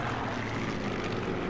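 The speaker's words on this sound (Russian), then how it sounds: "тут еще какие-то самолеты летают" Propeller airplanes droning overhead in the World War II shooter game Sniper Elite 4, a steady, moderately loud engine hum with no other sounds over it.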